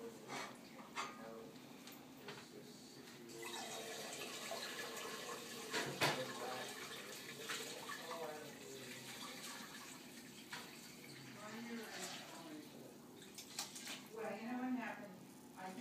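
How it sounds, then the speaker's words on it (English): Hot vegetable stock pours into a colander, a close, wet splashing and draining stream with occasional clinks, while a person talks over it. "So I have a colander here, and all I'm doing is pouring everything in."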